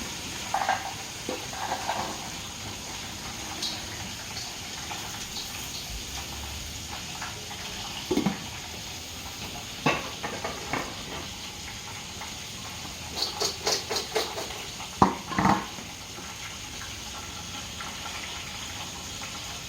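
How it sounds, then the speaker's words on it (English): Butter simmering in a pan on the stove while making popcorn, a soft, quiet sizzle with a few scattered clinks and stirring taps. "Still got the butter simmering."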